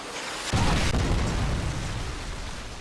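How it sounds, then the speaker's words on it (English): A Predator missile explosion in Modern Warfare 2 slams in with one sudden, loud boom, then a long, dense rumble that slowly tapers off without fading out. "Friendly Predator missile inbound."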